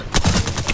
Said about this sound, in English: Oh, dude, I'm shooting you!